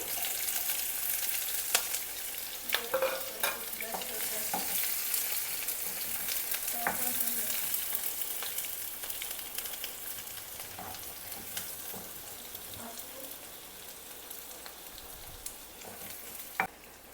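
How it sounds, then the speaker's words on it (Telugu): Chopped onions and green chillies fry in a pan of hot oil for a Telugu prawn gravy curry. A steady, quiet sizzle carries throughout, with scattered pops and the clink of a stirring spoon, and no one talks. "ఇవి వేగాక కట్ చేసి పెట్టుకున్న ఆనియన్స్ ఇంకా పచ్చిమిర్చి వేసుకోవాలి"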